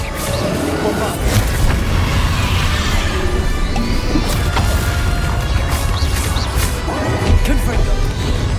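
The Bombarda blasting spell from Hogwarts Legacy lands with loud crashing and thudding impacts over a dense rumbling din of combat effects, continuous and heavy, with a voice speaking amid the action.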